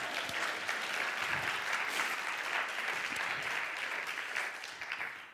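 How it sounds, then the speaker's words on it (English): Audience applause at a spoken sermon-style talk, a steady wash of many hands clapping at moderate distance, sustained throughout and tapering slightly at the end, with no voices over it. "Okay, yeah, let's clap for that."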